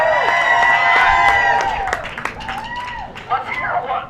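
A crowd at an outdoor patriotic rally cheers, claps and whoops loudly for a few seconds, a dense burst of voices and applause that thins out toward the end.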